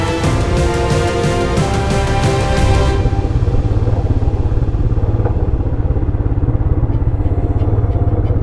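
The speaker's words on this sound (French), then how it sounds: "c'est nos motos qui ont fait le plus gros du boulot" Motorcycles ride on a road in the wild landscapes of the Altai, their engines roaring loud and close with a steady rhythmic throb throughout, no voices.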